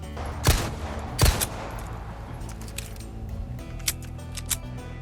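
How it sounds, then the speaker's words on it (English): SG-09R pistol in the video game Resident Evil 4 Remake, two loud close gunshots followed by a series of sharp mechanical clicks and clacks of a reload. "Here's what happens if we fire all shots with the SG-09 in the remake and reload afterwards"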